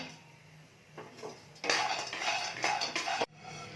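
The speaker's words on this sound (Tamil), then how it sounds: "அடுத்தது நூறு கிராம் முந்திரி வறுத்துக்கோங்க" Cashews, about a hundred grams, dry-roasting in a pan while a metal utensil scrapes and clinks against it, quiet at first and then louder, steady stirring for a couple of seconds before stopping abruptly.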